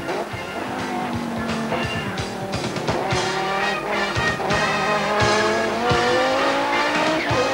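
Onboard view from an Audi four-wheel-drive racer in the 1992 Wesbank Modifieds series at the short, narrow Swartkop track: a loud, steady engine drone rising and falling through gear changes, with brief tire squeals and other cars nearby.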